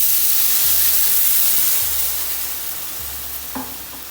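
Milk poured over roasted rava in a pan, hissing and sizzling at first, then fading as it is stirred, with a few faint scrapes near the end.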